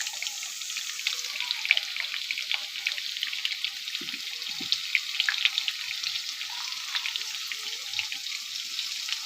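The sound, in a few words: potatoes frying in a pan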